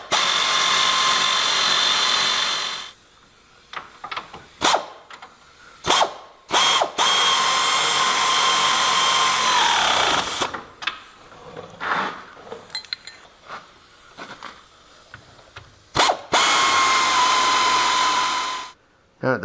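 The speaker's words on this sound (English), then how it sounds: "All I'm going to do at this point is just snug it up with the air ratchet" An air ratchet snugs up the front high-clearance A-arm bolts on a RZR, whirring in several loud bursts of varying length separated by short clinks and pauses, close by with no talk.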